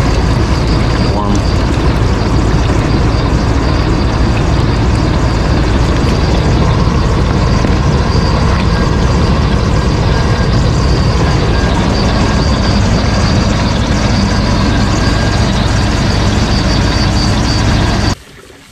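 A 1973 GMC C2500 pickup engine runs steadily during a coolant flush, a loud, continuous drone and hum that holds without break until it stops abruptly at the very end.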